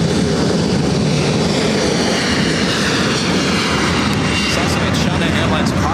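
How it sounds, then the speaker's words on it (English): An Emirates Airbus A380 taxiing across the south runways at LAX produces a steady, broad jet rumble and hiss, loud and unbroken for six seconds, with a voice talking over it. "Emirates A380 Super crossing over the 2 south runways."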